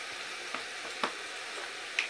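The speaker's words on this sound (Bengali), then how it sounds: "এবার টমেটোটা নেড়ে নেবো ভালো করে, একটু টমেটোটাও কষিয়ে নেবো।" Tomatoes with turmeric and dry spices sautéing in a pan for stuffed kakrol, a soft steady sizzle with a few light scraping strokes from stirring spaced about half a second apart, no voices.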